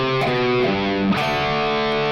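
A clean electric guitar plays a riff, sustained chiming notes ringing over about two seconds with a couple of picked changes, steady and close, with no voices.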